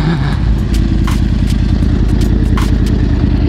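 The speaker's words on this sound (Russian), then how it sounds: "Сцепление так стучит?" A 2011 Yamaha R1 motorcycle idling close by with a clutch fault, its engine rumble carrying a steady clattering knock throughout.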